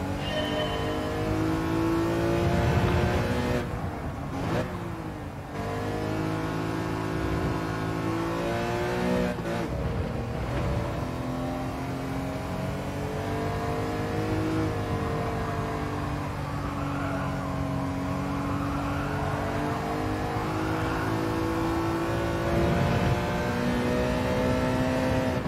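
Race car engine in a Gran Turismo 7 national licence test, revving up and down through gear changes with a sustained loud roar and shifting pitch, no voices heard.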